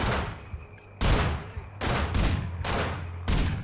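Video game gunfire comes in several loud, rapid bursts of overlapping shots, separated by short pauses, with no speech over it.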